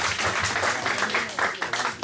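A church congregation at a ministry service claps together, steady dense applause filling the whole moment at moderate loudness, with a voice faintly mixed in.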